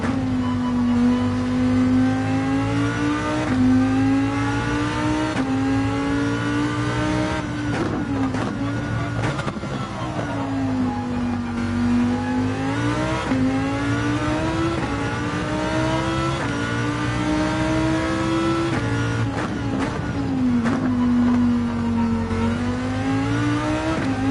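Race car engine in Gran Turismo 7 revving and accelerating steadily, its pitch rising and falling through gear changes and corners, loud and continuous with no talk over it.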